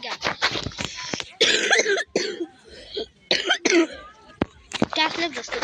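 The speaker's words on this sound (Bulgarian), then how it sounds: "Кашлях, защото имам алергия от прах." Several harsh coughs from someone with a dust allergy, close up and loud, mixed with bursts of talking between the coughing fits.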